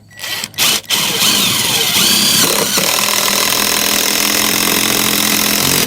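A power driver sinks 4-inch lag screws into a deck's end joist. A few short stuttering bursts lead into a long, steady, loud whirring run that holds nearly constant, close by, with no talk.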